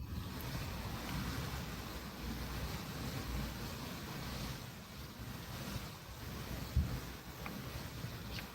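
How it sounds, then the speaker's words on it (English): Wind buffets the microphone outdoors on a fishing trip, a steady rushing roar with soft water wash beneath and no speech. "look at that wind"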